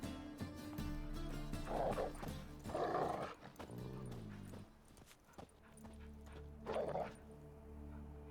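Dogs barking in The Witcher 3, a few distinct barks spaced apart at moderate distance over ambient music and footsteps.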